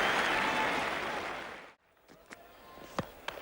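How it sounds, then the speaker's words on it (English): A cricket crowd gives a young player a standing ovation at a 1980-81 World Series Cup limited-overs match: loud sustained applause and cheering that cuts off abruptly, leaving faint background noise and a few distant claps. "a standing ovation for this young player who's having a magnificent season"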